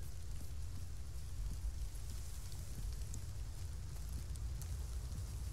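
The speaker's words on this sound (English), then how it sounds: "Oh, it's starting to rain." Steady rainfall in the video game Arma 3 patters continuously with a low rumbling wash underneath, an even, enveloping hiss with no voices.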